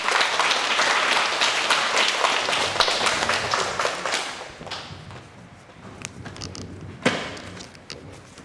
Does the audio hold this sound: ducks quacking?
no